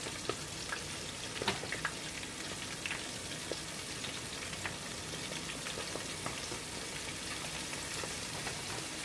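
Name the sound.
shrimp frying in oil for po boys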